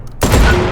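A loud burst of rapid gunfire from the VR shooter H3VR breaks in after a brief quiet start and sustains dense, close shots to the end.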